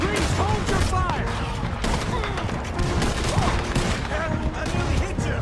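Dense, continuous gunfire in the video game Red Dead Redemption 2, with many overlapping shots and rattling volleys throughout, as voices shout over the shooting.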